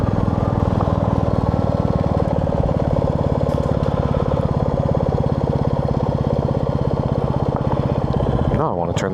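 A Royal Enfield motorcycle engine thumps in a loud, steady, close rhythm throughout, with a short rise in pitch at the very end.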